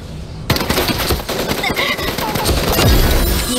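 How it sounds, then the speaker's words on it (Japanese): Rapid bursts of gunfire crackle over a busy mix of game sound effects in Super Mecha Champions, loud and close, with shots overlapping in quick succession. "銃声が聞こえた。"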